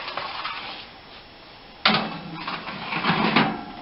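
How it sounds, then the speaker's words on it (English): A pan of chocolate chip cookies slid into a home kitchen oven, a sudden metallic clatter and scrape midway followed by rattling settling sounds, close and fairly loud. "So then I got another pan that's going in the oven."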